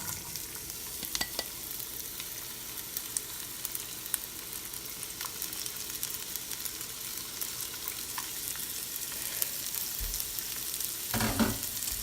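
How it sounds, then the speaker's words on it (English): Garlic and onions fry in olive oil in a pan, a steady close sizzle and crackle with occasional stirring scrapes and clicks, no voices. "I'm going to go ahead and add in first the garlic and onions"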